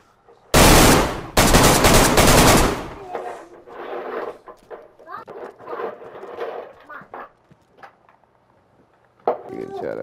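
A loud burst of rapid automatic gunfire in DayZ, close and dense for about two seconds, followed by scattered thuds and movement noises, with voices talking afterward.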